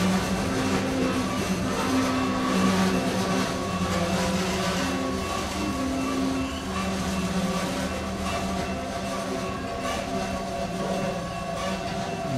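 The NS L71 train rumbles steadily nearby, with rolling rail noise and faint clatter continuing throughout, no voices.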